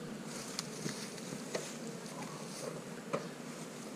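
Honey bees hum in a steady, dense drone from an opened hive on a farm, close and moderately loud, with a few faint clicks and taps scattered through.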